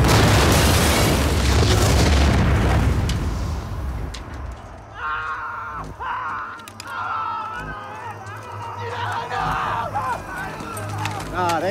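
M4 Sherman medium tank gun firing a white phosphorus round at a building in a war film scene, a loud, close, sustained roaring blast that fades into rumbling aftermath, with shouting voices and scattered impacts following.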